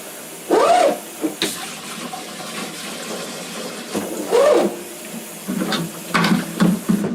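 Water splashes into a Mr. Beer home-brewing container in several short, close bursts, separated by quieter gaps with low background hum.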